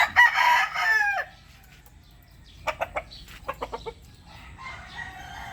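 White Kelso Firebird gamefowl cluck and crow, with a rooster call at the start and a series of short clucks from the chickens afterward.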